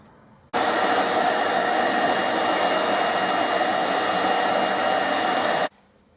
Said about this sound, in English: what I like to do is just go over with a vacuum